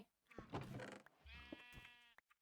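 A sheep in the Minecraft video game gives two close, fairly loud bleats, the second a longer wavering call, with no talk over them.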